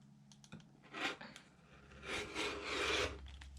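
A rotary cutter slices through fabric in a few soft raspy strokes, close and quiet, with brief rubbing scrapes between them and no talking.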